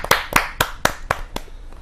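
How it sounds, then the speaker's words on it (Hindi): At a Hindi kavi sammelan poetry gathering, an audience welcomes a poet with about seven loud, sharp claps in a steady rhythm, each clearly separate, close and with no talk. "जोरदार तालियों के साथ"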